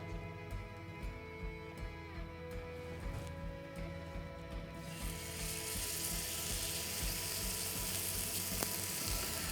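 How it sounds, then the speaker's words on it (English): Steak searing in a hot pan gives a steady bright sizzle that swells loudly about halfway through and holds alone, over faint background clicks and rattles. "Check the pan for the heat. It's nice and hot and we're looking for a nice sizzle."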